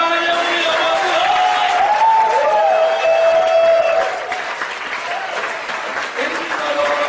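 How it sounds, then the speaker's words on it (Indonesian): A church congregation at Gereja Sungai Yordan in Singkawang applauds for God during a Sunday service, with loud, continuous clapping mixed with cheering voices and tonal shouts, easing slightly toward the end. "Beri tepuk tangan yang mulia buat Tuhan"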